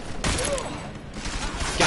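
Gunfire in the video game Deus Ex: Mankind Divided, a dense loud fusillade of close shots filling the short moment with sustained crackling bursts.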